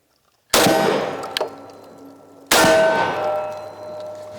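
Beretta semi-automatic shotguns, an A300 and a 1301, fire Fiocchi shells: two loud, sharp blasts about two seconds apart, each followed by a ringing metallic decay, with no talking.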